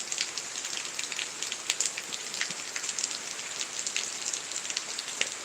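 Steady rain pours down through a stormy night with no thunder, a dense, close hiss of drops spattering on surfaces.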